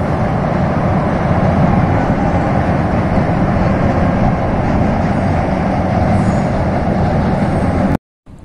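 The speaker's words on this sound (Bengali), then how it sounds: "আর ওই দেখো দূরপাল্লার ট্রেন সব যাচ্ছে" Long-distance trains crossing the river bridge over the Rupnarayan at Kolaghat make a loud, steady rumble and roar that holds throughout, then cut off abruptly near the end.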